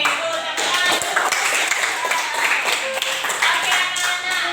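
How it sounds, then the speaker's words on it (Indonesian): Students in a classroom science lesson clap together in a quick burst of rhythmic, close applause, with a teacher's voice heard over it. "tepuk tangan dulu"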